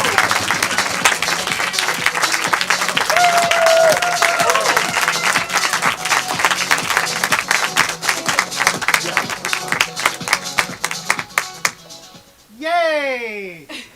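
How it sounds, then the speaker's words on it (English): An improv show audience greets the first group of the night with sustained applause and cheering that thins into scattered claps and foot stomps. The crowd noise fills the room before fading, and a voice follows at the end. "Clapping, cheering, all of that, stomping for our first group of the night."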